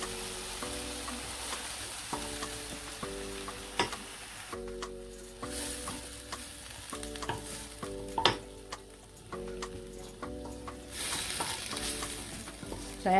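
Oil crackles and sizzles steadily as anchovies fry in a pan, with clinks and scraping from stirring throughout; no voices.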